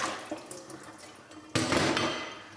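Tap water runs into a sink while grated potatoes are rinsed, a steady splashing stream that swells suddenly louder midway as the flow hits the shreds, with no talking.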